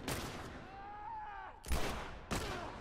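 Gunfire from The Last of Us video game: two sharp, loud shots spaced about half a second apart, following a stretch of tonal game sound and background noise.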